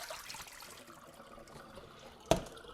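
Rinse water drains off meat in a bowl, a faint close trickle that ends in one sharp knock.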